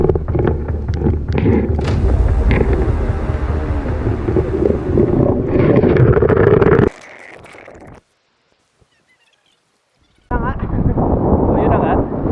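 Strong gusts buffet the microphone in a heavy, roaring rush, broken by thuds, then cut off abruptly before the blustering noise returns.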